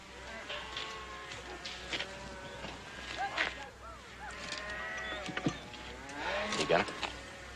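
Cattle moo loudly and repeatedly during a branding on a Western ranch, several drawn-out calls overlapping against steady background noise, with people talking.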